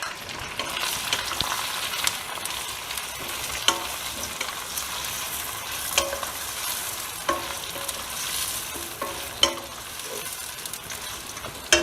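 Green chillies and raw mango frying in oil with ajwain seeds, a continuous crackling sizzle punctuated by regular sharp clinks and scrapes of a spoon against the pan, no talking.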